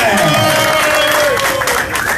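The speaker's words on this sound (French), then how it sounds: "Est-ce qu'on peut applaudir pour ça?" Crowd gathered in Douala awaiting the arrival of Maurice Kamto applauding in a steady, dense wash of clapping, with a voice carrying over the noise throughout.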